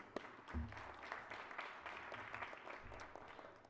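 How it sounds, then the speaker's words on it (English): Scattered applause on a state Senate floor for legislative services staff, faint and uneven clapping with a few low thumps and bumps mixed in. "I hope we can all give Department of Legislative Services a round of applause for all their great help this session"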